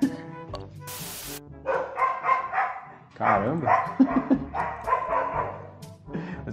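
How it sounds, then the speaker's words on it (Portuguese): A dog barks into a phone microphone in a series of close, loud yelps and barks, mixed with people talking in Portuguese. "Esse cachorro latiu no microfone do celular"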